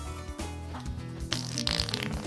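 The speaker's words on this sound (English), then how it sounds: "Fart noise." A cartoonish fart noise from the Spyro 3: Year of the Dragon game plays, a low, buzzing, rippling blurt over background game music, with a brighter flurry of effects toward the end.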